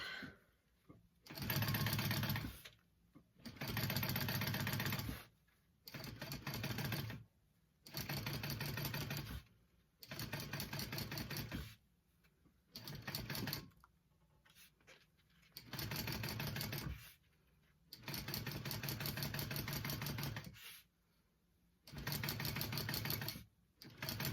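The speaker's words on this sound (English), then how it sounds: "we're gonna sew that together, okay? I've got my machine at about a 5 stitch length." A sewing machine stitching fabric for a teddy backpack at a long stitch length, running in about ten steady whirring bursts of a few seconds each, with brief quiet pauses between runs.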